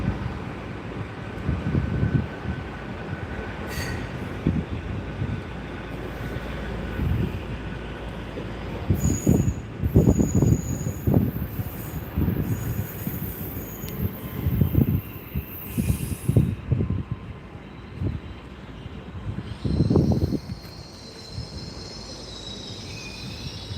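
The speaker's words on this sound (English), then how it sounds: "the train is 802-011, so Captain Robert Falcon Scott." Hitachi Class 802 train, unit 802-011, passing through Gloucester: a continuous low rumble with repeated heavy clunks of wheels over rail joints, bursts of high metallic wheel squeal and brake hiss, close and fairly loud.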